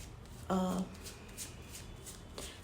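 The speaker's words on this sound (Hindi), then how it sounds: "focus on my cards, on the way I'm shuffling the cards" Tarot cards being shuffled by hand close up, a crisp riffle burst followed by softer scattered card movements in a quiet room.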